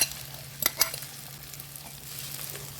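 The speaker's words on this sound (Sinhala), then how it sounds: "ගහගෙන අපි මේ තෙල් එකට අපි දාමු." Beaten eggs poured into hot oil for noodles, a soft steady sizzle with a few sharp clinks of utensil against the pan near the start.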